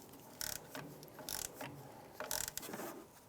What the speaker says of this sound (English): I'm going to go ahead and torque the upper strut nuts to 47 foot-pounds